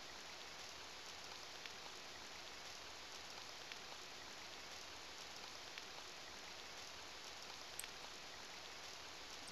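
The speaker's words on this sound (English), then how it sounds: "What a terrible day for rain." Steady rainfall in the video game Seraphic Blue, an even hiss of drops with faint scattered taps, quiet and continuous with no voices.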